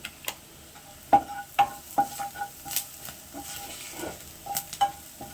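Chili powder being stirred into an oil-filled frying pan, with a soft steady sizzle under a string of sharp spoon taps and scrapes against the pan, close and fairly quiet, no talking.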